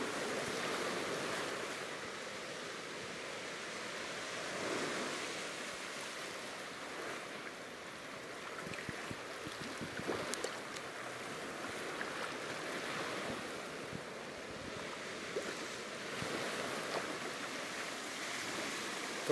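Waves break and wash continuously onto Hikkaduwa Beach in Sri Lanka, a shallow shore of fine crushed shell, producing a broad, steady roar with surging swells, close and fairly loud, with no voices.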